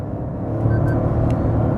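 A Toyota Hyryder G hybrid SUV pulling away under acceleration in economy mode at around 70, a low steady engine and road rumble building slightly, heard from inside the cabin with no talking.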